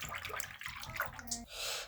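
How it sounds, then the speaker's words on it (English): Cold tap water runs steadily into a sink or tub while toy fidgets are being washed, a continuous splashing hiss close by with a louder gush near the end and faint background talk. "I'm gonna turn the water on."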